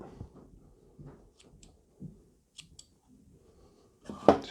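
Scissors snip cotton wick for a Geekvape Zeus X RTA, a few small close clicks and soft handling noises ending in a louder snip and rustle.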